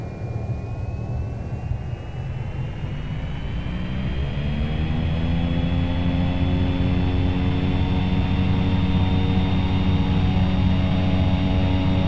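Single-engine turboprop Cessna C208B Caravan spooling up to takeoff power in X-Plane 11, a steady loud drone whose propeller tone rises and thickens over several seconds, then holds constant with no one talking.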